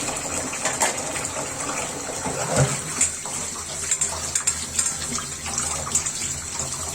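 Dirty dishes being washed under a steadily running kitchen tap, a continuous gushing splash of water with small clinks and shifts, close and fairly loud.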